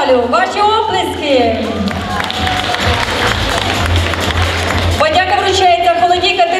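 A festival awards-ceremony crowd applauds a jury member, a broad swell of clapping and cheering in the middle, with an announcer's voice before and after it and a low hum underneath.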